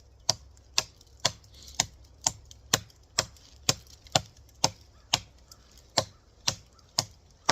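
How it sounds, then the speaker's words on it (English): A BeaverCraft BSH4 bushcraft knife with a 1066 high-carbon steel blade chops wood in sharp, evenly spaced strikes, about two per second, each a crisp knock with a short decay, close and alone with no talking. "I really wouldn't use this knife normally for chopping."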